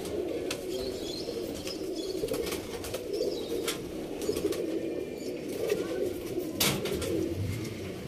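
Pigeons crowd a loft with continuous low cooing, and wings flap and rustle in several sudden bursts close by.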